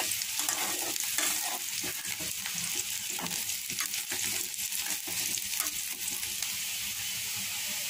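Onions browning in hot oil for a mixed vegetable curry with green banana, potato, carrot and eggplant, stirred constantly, give a steady broadband sizzle, close and loud, broken by frequent scraping stir strokes with no talking.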